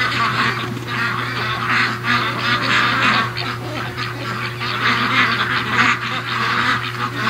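A flock of Muscovy ducks in a backyard keeps up a dense, busy chorus of quacks and chatter over a steady low mechanical hum, loud and continuous throughout.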